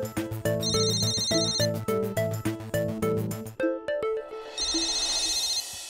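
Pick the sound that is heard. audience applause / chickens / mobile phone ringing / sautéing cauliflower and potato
mobile phone ringing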